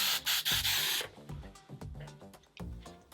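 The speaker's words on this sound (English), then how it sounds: "So I'm gonna spray it." Hairspray sprayed onto a styled party wig with 1980s-style bangs: a loud, steady hiss of about half a second, then a short break and another burst of about half a second, followed by quieter brushing and rubbing sounds.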